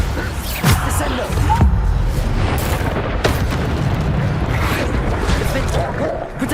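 Booming magic blasts go off in Hogwarts Legacy, with heavy explosive bursts and rumble in dense layered game combat, some loud thumps standing out over continuous noise.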